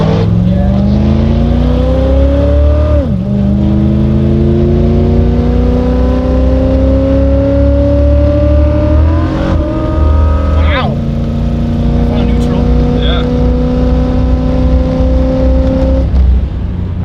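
Turbocharged BMW E36 drag car launching at a drag strip, a loud, close engine revving hard with rising pitch that drops sharply at gear shifts, climbing again several times.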